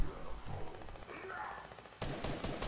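Rapid automatic gunfire from an opponent in the video game Fortnite, a dense burst of shots crackling continuously for a couple of seconds, loud and close in the game mix.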